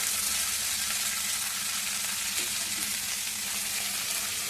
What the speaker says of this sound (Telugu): ఆవాలు, జీలకర్ర ఇవి వేస్తున్నాను అనమాట. వేసేసిన తర్వాత అది కాలుతాయి కదా.